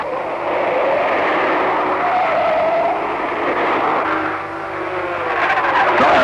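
Holden Monaro and Ford Falcon race cars at the 1968 Bathurst race, engines roaring loudly and continuously as they power through a corner and up the pit straight, with rising and shifting engine tones throughout.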